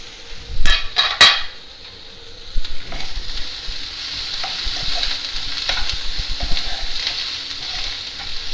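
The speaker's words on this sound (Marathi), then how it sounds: "कांदा परततो आहे, थोडीशी झाकण ठेवून 1-2 मिनटं कांदा छान परतवला गेला." Onions sizzle in a pan, with a few sharp metallic scrapes and clanks of stirring early on, then a steady frying hiss.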